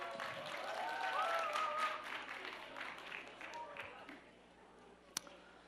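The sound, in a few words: audience applause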